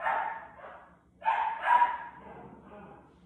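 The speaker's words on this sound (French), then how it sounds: "maintenant que je fais une vidéo, bien évidemment, il jappe" A dog indoors barks and yips in a home kitchen, two bursts of high, nasal barking a moment apart, fairly close and moderately loud with no talk over it.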